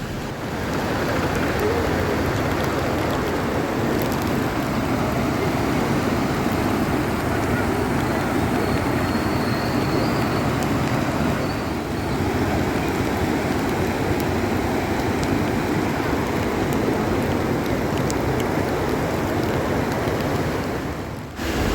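Floodwater rushes past beside a road in Nilambur during rain, in a loud, unbroken roar that holds steady for the whole stretch.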